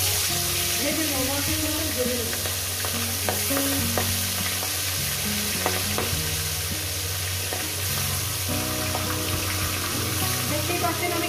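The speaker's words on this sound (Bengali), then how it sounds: "এইবার এই মাছের কাঁটাগুলো আমি ভেজে নেবো" Bhetki fish bones fry in hot oil in a pan, a steady loud sizzle broken by repeated scraping and stirring clatters against the metal, close up with no talking.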